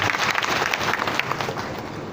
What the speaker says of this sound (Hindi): सबके लिए ज़रा जोरदार तालियां बजा दीजिए